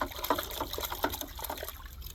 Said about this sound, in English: keep on rinsing it